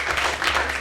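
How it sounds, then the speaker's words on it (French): A short burst of applause from a small crowd at a live event, dense clapping heard at moderate distance. "Acclamation pour le délégué adjoint."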